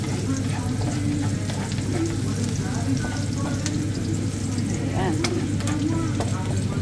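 Garlic and onion sauté in a pan for pork steak, giving a continuous close sizzle and crackle over a low steady hum, with occasional soft stirring scrapes.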